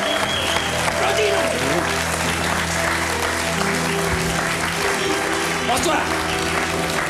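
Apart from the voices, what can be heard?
audience applause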